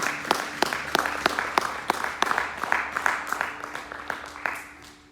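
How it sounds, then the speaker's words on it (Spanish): A church congregation at a Sunday evening service applauds, with a steady patter of hands and distinct, rhythmic sharp claps repeating about every third of a second, moderately close. "Den un fuerte aplauso a la presencia del Señor en esta noche."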